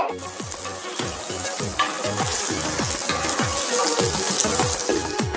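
Cumin seeds sizzling and crackling in hot oil, a busy continuous spatter with rapid pops, close up and fairly loud.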